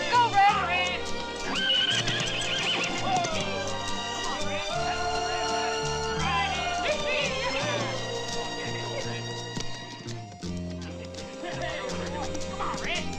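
A horse whinnies and its hooves clip-clop during a Western chase, loud and close, amid shouting voices and a busy, dense soundtrack that runs steadily throughout.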